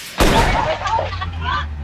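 A single sharp gunshot fired by a masked man at a vendor during a shooting in Rizal, heard as one loud close crack followed by a ringing, reverberant tail with faint voices after.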